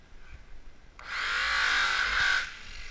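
A rotary grinder-polisher with an orange and brown pad setup works sanded car paint during cut-and-colour polishing. It gives one close, steady whirring run of about a second and a half that starts and stops abruptly.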